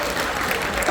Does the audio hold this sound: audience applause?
yes